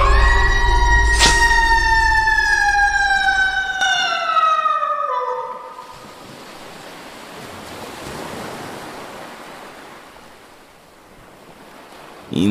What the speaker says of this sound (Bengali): ইঞ্জিনের বাঁশির আওয়াজের মতো এক তীব্র দীর্ঘ আর্তনাদে আকাশ বাতাস পরিপূর্ণ হয়ে গেল